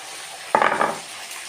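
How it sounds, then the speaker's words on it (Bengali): Garlic and chillies being stir-fried for kochu chingri make one short, sharp burst of sizzling and spatula scraping in the pan, loud and close, then fade to a low hiss. "ভালো করে কষাবো।"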